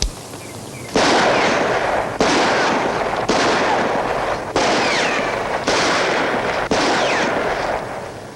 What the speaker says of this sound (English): why don't you just take out your gun and shoot at something?